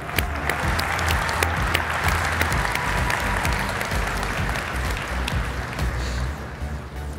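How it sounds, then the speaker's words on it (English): An audience at a science fair grand awards ceremony applauds steadily, a dense wash of clapping hands that holds at an even level throughout. "Please give our winners a round of applause."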